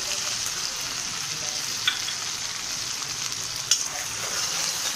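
Curry leaves and red chilli frying in hot oil while being stirred, a steady close sizzle running throughout with a couple of brief louder crackles.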